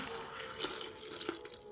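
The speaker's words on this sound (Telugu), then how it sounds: "కొంచెం వాటర్ పోయండి" Water splashes and trickles briefly over salted mushrooms, poured in a short quiet stream with a couple of louder splashes.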